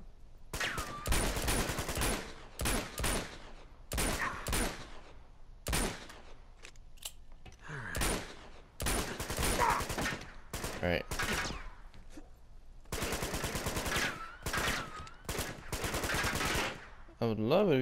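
Gunfire from the video game Uncharted 2 comes in repeated loud bursts of rapid shots separated by short pauses, with occasional voices between the volleys.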